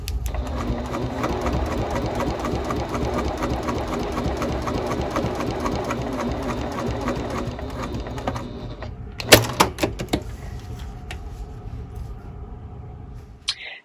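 A sewing machine runs steadily at its longest stitch length, pushing out long basting stitches on a tote bag exterior, a continuous rapid clatter that stops partway through and gives way to a few louder handling clicks and knocks.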